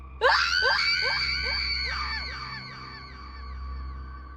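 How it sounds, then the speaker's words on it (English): Victims scream inside a farmhouse on a quiet night: a series of shrill, overlapping cries with falling pitch, repeating rapidly and then trailing into a sustained wail. The screams are loud and close. "the screams of the victims inside had echoed through the quiet"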